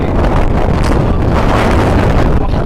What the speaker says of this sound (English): oh shit, it's windy